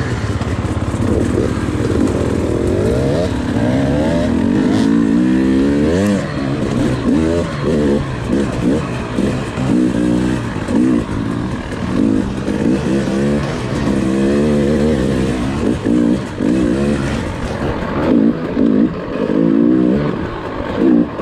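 A motorcycle ridden along the Tomahawk trail in Michigan, its engine loud and close throughout, rising and falling as it revs and shifts over the dirt trail, with steady wind rumble.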